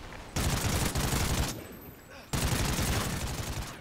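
Sustained bursts of MSBS three-round-burst assault rifle fire in Call of Duty: Ghosts, loud and dense rapid shots in two long volleys split by a short gap.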